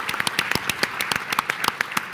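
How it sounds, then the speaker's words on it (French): Sparse hand claps from a small conference audience, irregular and moderately near, over a soft room background. "on peut l'applaudir effectivement"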